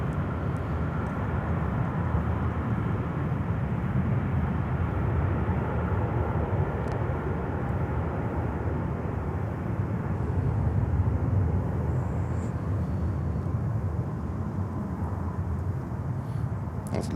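A broad, steady jet engine roar from an Emirates airliner at Miami airport fills the scene, with constant low rumble and no clear rise or fade.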